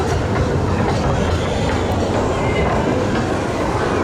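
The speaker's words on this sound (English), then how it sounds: "And here comes Icon, pretty much perfect timing there for the second section" The Icon roller coaster train at Blackpool Pleasure Beach rushes past, a loud continuous rumbling roar with rattling wheels on track, close by and dense throughout.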